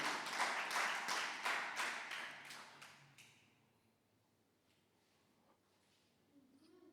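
A church congregation claps in rhythmic unison, about eight even claps over three seconds, then fades into a quiet room with faint murmuring.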